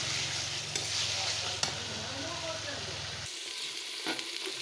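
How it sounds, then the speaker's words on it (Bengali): Chicken frying in a pan sizzles with a steady, dense hiss, with occasional scraping stirs and a low hum that drops out partway through, leaving the sizzle alone. "তো দেখো এখানে সমস্ত কিছু ভাজা হয়ে গেছে"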